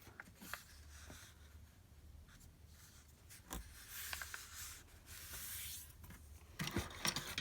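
A sheet of paper is folded in half and creased, giving soft rubbing and sliding scrapes with a few sharper crinkles, close and quiet, with no talk.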